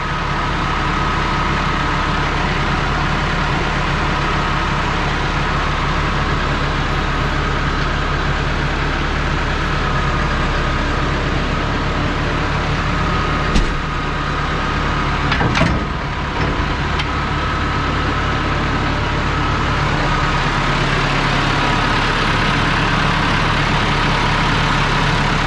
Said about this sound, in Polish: Nowy traktor już jedzie do roboty